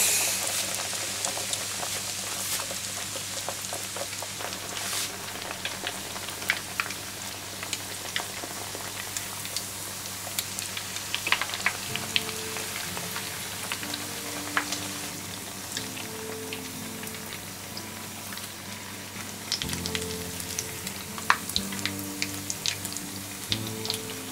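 Thick-cut ham cutlets deep-fry in oil over maximum heat, giving a steady, dense crackling sizzle that runs close and unbroken throughout, with a faint low hum beneath.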